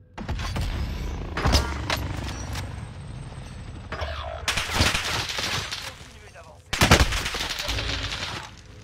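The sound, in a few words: sniper rifle gunfire in a video game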